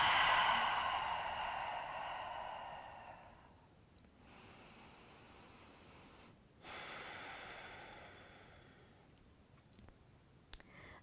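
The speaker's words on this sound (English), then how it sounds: "release the breath through the mouth" A slow breath is let out through the mouth in a soft, close exhale that fades over a few seconds. A second, quieter breath follows, then faint clicks.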